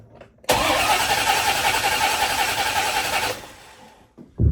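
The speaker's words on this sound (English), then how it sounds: "She should fire up in just a second now." A 1979 El Camino engine with a choke cranks and fires into a loud, rough roar lasting about three seconds, then settles lower before a final burst of sound at the end.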